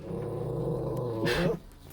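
A wild puppy found in a pit in the woods growls low and steadily at close range for about a second and a half, swelling into a brief harsher burst before falling quiet.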